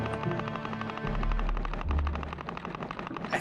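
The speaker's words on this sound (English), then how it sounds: "People are setting off fireworks because it's that holiday where you set off the fireworks." Fireworks burst in the video game The Legend of Zelda: Wind Waker, a dense run of rapid popping bangs over a low rumbling background, moderately faint and continuous throughout.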